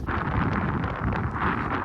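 Steady, loud wind roaring across the microphone at the seashore at Gopnath, a broad continuous rush with gusty swells throughout, no voices.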